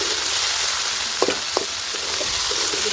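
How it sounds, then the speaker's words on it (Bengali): Potatoes fry in a pan for cauliflower posto, a loud steady sizzle with two quick scraping stirs near the middle. "ভালো করে কষে নেবো।"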